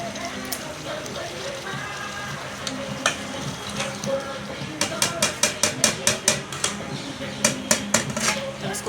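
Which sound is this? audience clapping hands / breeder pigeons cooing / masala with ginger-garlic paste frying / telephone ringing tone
masala with ginger-garlic paste frying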